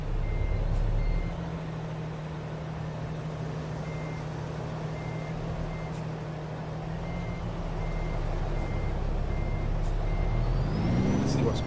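Reversing beeps from a truck in American Truck Simulator repeat in a steady, evenly spaced pattern over a continuous low engine rumble, moderately loud and steady throughout.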